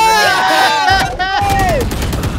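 Rapid gunfire in the shooter game Valorant, sharp repeated shots over tonal game effects, loud and close, with excited voices talking throughout.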